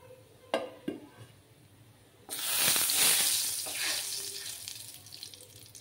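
A bay leaf, cinnamon, cracked cardamom, cloves and a pinch of hing hit hot oil: a few faint clicks, then a sudden loud, steady sizzle that slowly eases.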